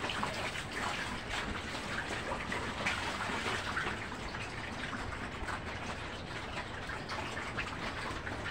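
A bucket of water poured into fattening pigs' Growex feed makes a steady rushing splash that runs continuously for about eight seconds at an even level, close by, with no speech over it.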